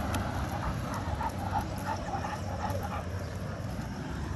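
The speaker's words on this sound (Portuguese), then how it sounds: "tem mais dois cachorros ali" Pit bulls out on a walk let out short yips and whimpers among soft barks, close by and fairly quiet, with a steady background hiss.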